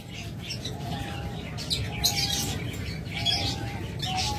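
Pet birds in a breeder's sale enclosure chirp and tweet in repeated short calls, with a soft cooing undertone and some faint voice in the background.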